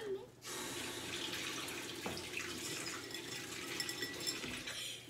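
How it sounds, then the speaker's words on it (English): A kitchen tap runs steadily while children wash their hands. A constant splashing gush of water fills the clip, fairly quiet and close, and soft voices of adults and children talk faintly underneath. "while they're washing their hands"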